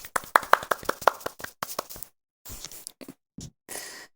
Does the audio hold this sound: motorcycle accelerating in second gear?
no